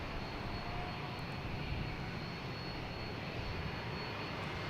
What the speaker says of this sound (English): We have Etihad taking off, heading back to Abu Dhabi.